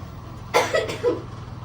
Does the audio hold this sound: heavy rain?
no